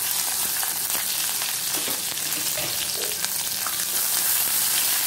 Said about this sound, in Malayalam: കടുകും ഉലുവയെല്ലാം നല്ല പൊട്ടിക്കഴിഞ്ഞാൽ നമുക്ക് ഈ കറിവേപ്പിലയും പച്ചമുളകും ഇടാം